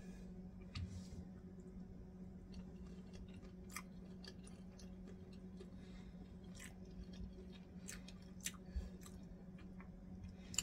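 Someone chewing shrimp and grits: faint, close, wet mouth clicks and soft squishy bites, irregular and scattered over a low steady hum, with no talking.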